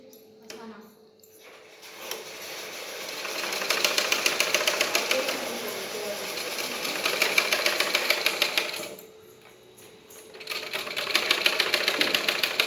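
Sewing machine stitching a lining onto the neck side of a frock, running in rapid mechanical bursts with short pauses between them, the motor hum and needle chatter close and steady.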